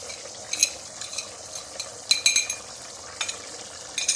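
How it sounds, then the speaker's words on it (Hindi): Spices go into a kidney and testicle meat dish frying in a pan, and a spoon stirs them in with a soft sizzle and several clinks and scrapes against the metal, close up. "हम इनको अच्छे से मिक्स करेंगे।"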